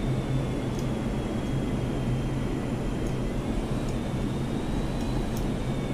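Chengdu J-10A fighter jet engine idling in DCS World, a steady loud broadband roar with a low droning hum and a faint high whine held throughout.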